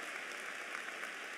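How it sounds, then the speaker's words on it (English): Audience applause at a 2014 spring undergraduate commencement ceremony, a steady, even wash of many hands clapping, faint and somewhat distant, with no voices standing out. "Now let's give him a round of applause."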